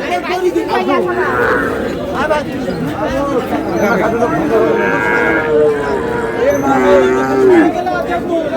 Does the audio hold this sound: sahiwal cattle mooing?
yes